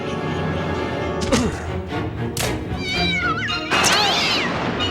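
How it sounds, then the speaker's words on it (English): A cartoon cat in an animated Batman episode meows and yowls loudly, several drawn-out wavering cries in quick succession, the last one rising into a strained caterwaul. "And this is one of Jackson's cats"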